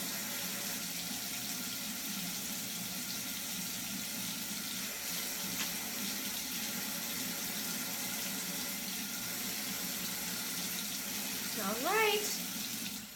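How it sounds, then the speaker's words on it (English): A tap runs steadily into a sink as hands are wetted while styling hair, a close, constant splashing stream with a brief spoken remark and a short squeaky rush of water near the end. "so I'm going to wet my hands again"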